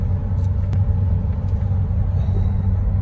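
An Audi Q7 TDI diesel SUV with around 174,000 miles cruises on a Monday commute, heard from inside the cabin as a steady low road rumble and engine drone, with a couple of faint clicks.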